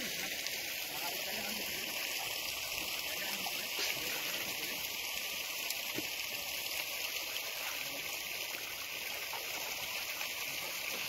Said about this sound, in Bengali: জলটা কাটিয়ে দেয়, জলটা চলে যাবে।